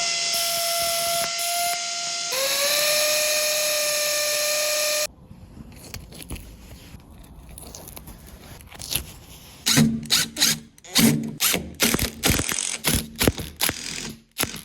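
A power drill bores into a wall. A steady high motor whine shifts pitch and holds for about five seconds, then gives way to loud, choppy grinding and rattling bursts nearby.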